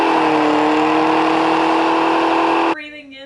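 A Pontiac GTO's engine holds a loud, steady high-rev roar at sustained RPM for a line-lock burnout, then cuts sharply to a lower rumbling idle near the end.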